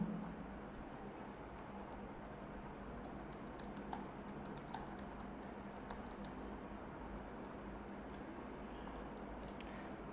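Rapid clicking of computer keyboard keys as C code is typed, steady clusters of close, quiet keystrokes over a low background hum.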